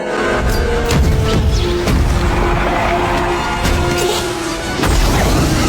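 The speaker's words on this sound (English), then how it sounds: "The sudden burst of gas flames and bullets from all sides seemed like enough to finish him" Movie gunfire and flamethrower gas bursts attack the Predator from all sides in a loud, dense, continuous roar packed with crashes and booms, very near and with no talk.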